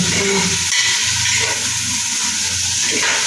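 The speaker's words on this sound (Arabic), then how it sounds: "سمعتو الصوت ديال الشحار، الصوت ديال الشحار يا سلام" Onions sizzle and fry steadily in oil in a pan, a continuous loud hiss with a few faint stirring scrapes and no voices.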